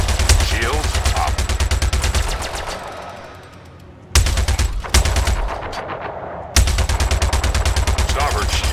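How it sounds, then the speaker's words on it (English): Rapid weapons fire strikes a ship's starboard shields in Star Citizen space combat, loud dense bursts of impacts that fade briefly and resume twice, continuous and close. "Starboard shield under fire"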